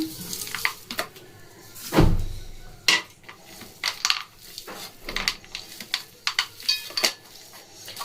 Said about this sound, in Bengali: বাদামগুলোকে খুব ভালো করে মিশিয়ে নেব।